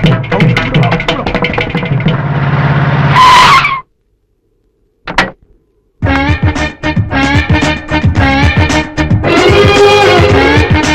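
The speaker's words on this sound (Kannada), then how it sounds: "ಇದು ಡಕೋಟಾ ಬಂಡಿ ಒಳ್ಳೆ ಬಿರುಗಾಳಿ ಬಂದಂಗ್ ಬರ್ತಾಯ್ತೆ" An old Dakota car tears in like a storm and skids, with a loud engine roar and tire screech against a dense, tonal backdrop, a short silence, a brief burst, then more roaring commotion.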